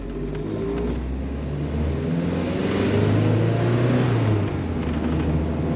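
A Lancia Delta HF Integrale pulls away on a road heading toward Montserrat in rural Catalonia, its engine droning steadily and rising gradually as it accelerates, loud and close.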